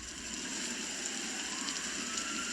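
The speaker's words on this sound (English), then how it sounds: "He can still hear the heavy rain that night." Heavy rain falls at night in a steady, soft hiss that stays faint and continuous throughout, with no voices.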